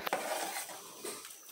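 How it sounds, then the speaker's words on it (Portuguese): A spoon stirs pasta cooking in a pot, giving a soft, continuous scraping and clinking with gentle sloshing, close and steady, with no talking. "Vou dar umas mexidinhas de vez em quando até o macarrão cozinhar"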